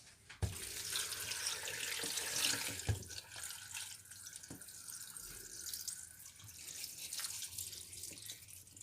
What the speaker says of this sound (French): On va rajouter de l'eau. Voilà, donc on va recouvrir d'eau.